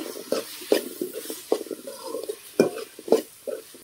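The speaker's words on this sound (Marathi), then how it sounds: "बटाटे पण आपल्याला 2-3 मिनिटं परतून घ्यायचे।" Potatoes and tomatoes being sautéed in a pan over a wood-fired chulha, with a utensil stirring and scraping in irregular bursts and a soft sizzle beneath, close and moderately loud.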